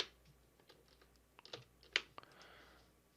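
Quiet computer keyboard and mouse clicks in FL Studio 20, a few scattered soft taps followed by a sharper pair of key presses, close and isolated with no talk.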